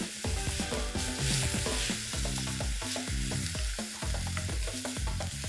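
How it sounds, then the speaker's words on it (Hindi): Finely chopped onions fry in hot oil with cumin in a pan for chicken Patiala, a steady loud sizzle broken by repeated scraping and stirring clatters of a utensil against the pan, with no voices. "ये प्याज को हमें गोल्डन ब्राउन करना है।"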